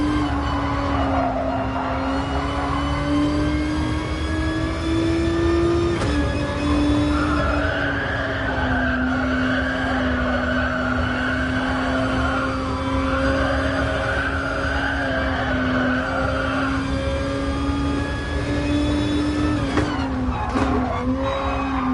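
A Lamborghini race car in GT Sport drives a circuit during an online FIA GTC Manufacturers Series round, its engine droning steadily and close for the whole stretch, with tire squeal and shifting pitch as it corners.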